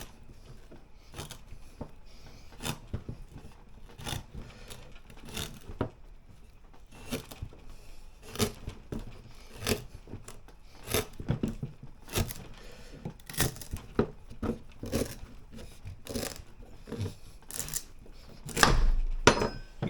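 A knife chops through a rooted sugarcane stalk in a series of irregular, sharp, close thwacks and cracks, fairly dense in places, with a heavier thud near the end.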